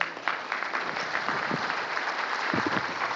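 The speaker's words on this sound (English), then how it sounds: "they do need a big round of applause" An audience at a conference in Oman claps together, a dense, steady wash of applause that keeps going at an even level from start to finish.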